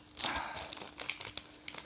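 A small plastic bag from a Motorhead No Sleep Til Hammersmith 40th anniversary box set is handled and crinkled up close, giving a run of sharp rustles and crackles.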